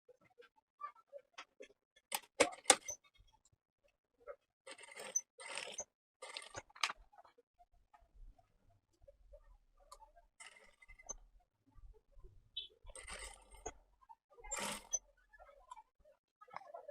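Sewing machine stitching lace over A4 paper in short quiet runs of rapid mechanical ticking, broken by pauses and faint handling noises, with no talking.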